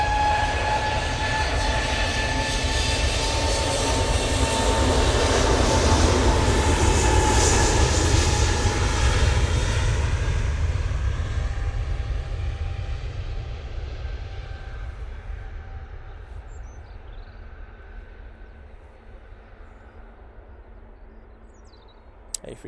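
Airbus A320 airliner departing Manchester Airport, a loud, sustained jet roar that builds, then slowly fades into the distance with no talk.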